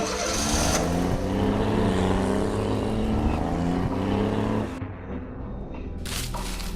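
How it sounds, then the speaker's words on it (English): Fancy car driving away in a children's cartoon story, a steady engine drone with a rising tone that drops off abruptly near the end, leaving a quieter hum. "He got on his way from his town in his fancy car."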